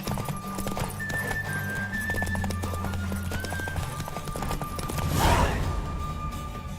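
Horse galloping in The Witcher 3, steady rhythmic hoofbeats close up, with a short whinny-like surge near the end.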